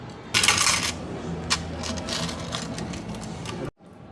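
Coins clatter steadily into an arcade machine, a loud metallic rush at first that settles into a continuous jingling cascade before stopping abruptly.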